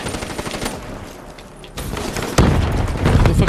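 Gunfire in Call of Duty: Black Ops III, loud rapid automatic bursts crackling close by, a brief lull, then heavier sustained shooting and booms.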